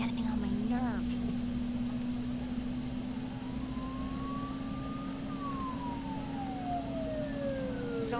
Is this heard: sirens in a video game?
yes